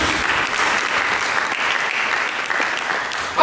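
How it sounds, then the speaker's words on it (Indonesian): A church congregation claps together in sustained, dense applause that carries steadily throughout, ending with a brief louder swell. "Berikan tepuk tangan bagi Yesus."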